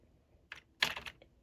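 A restored Dell QuietKey keyboard is typed on, a few soft separate key clicks followed by a short quick burst of presses, close and quiet.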